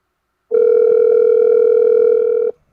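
A steady telephone dial tone, loud and close, holding for about two seconds after a brief silence and then cutting off abruptly.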